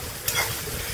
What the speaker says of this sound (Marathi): कांदा बघा चांगला परततोय